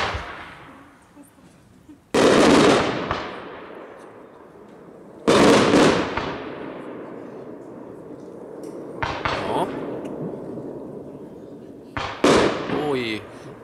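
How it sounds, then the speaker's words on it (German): A consumer fireworks battery fires colour-to-bang shots outdoors: loud, sharp bursts arrive several seconds apart, each followed by a decaying crackle and rumble, with a smaller pop and a final whistling burst near the end. "jetzt die 29, 8 Schuss, Farbe zum Knall"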